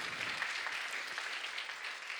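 A church congregation applauds during a sermon, a steady, moderately faint wash of clapping that fills the whole stretch without any voices.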